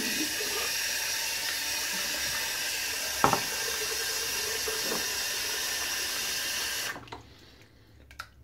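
Tap water runs steadily into a bowl, a continuous close hiss and splash that holds for about seven seconds, with a couple of faint knocks partway through, then cuts off to near silence.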